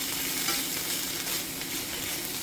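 Thin slices of marinated LA galbi beef chuck short rib sizzle and fry steadily in a hot non-stick pan, a constant close crackling hiss with no talking.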